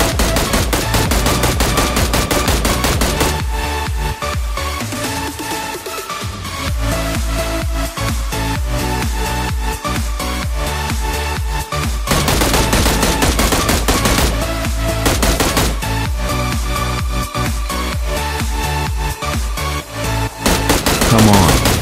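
Rapid, loud bursts of automatic gunfire from PUBG gameplay rattle almost continuously, in long volleys broken by a couple of short pauses, with a nearby squad firing back.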